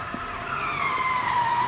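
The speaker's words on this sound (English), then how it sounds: "That's a car." Car tires skidding in a sustained, loud squeal that slides slowly downward in pitch over a steady background, with no talk.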